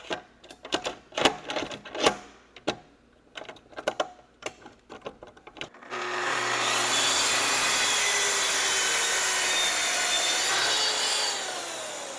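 A saw cuts through clamped material, first as a run of sharp, uneven strokes with short gaps, then as one steady, loud, continuous cut that lasts several seconds before it stops.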